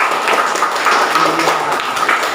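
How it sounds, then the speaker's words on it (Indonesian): Children in a classroom clap for a classmate, a steady patter of small hands filling the room at moderate volume, with faint voices mixed in. "Boleh kasih tepuk tangan buat Iqbal?"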